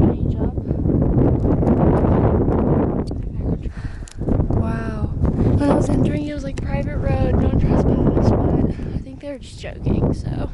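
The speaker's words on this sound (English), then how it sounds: "The wind I'm feeling right now" Wind buffets the microphone on a steep hilltop, producing loud, gusty low rumbling throughout, with a person talking over it.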